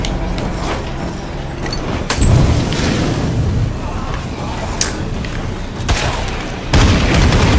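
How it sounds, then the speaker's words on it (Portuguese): Explosion in the video game State of Decay 2, heavy booms bursting at intervals over continuous rumbling game noise, with a player talking over the action. "isso aí é aquele negócio lá da explosão que eu falei"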